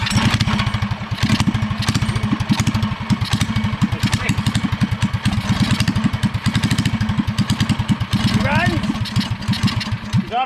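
Scratch-built mini bike small engine sputtering to life and running roughly, a loud, rapid mid-pitched putter throughout with a brief revving rise near the end, people talking over it.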